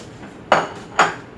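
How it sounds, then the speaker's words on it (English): Garlic being smashed for Cuban vaca frita, two sharp, close whacks about half a second apart on a kitchen surface, each with a brief ringing clatter like a blade or pan. "we're gonna smash the garlic"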